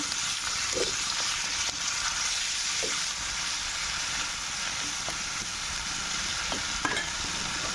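Cumin powder, garlic and ginger paste fry in hot oil, giving a dense continuous sizzle close to the pan with a few soft stirring taps and no talk.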